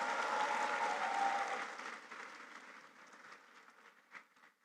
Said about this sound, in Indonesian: Sekali lagi boleh ya tepuk tangannya?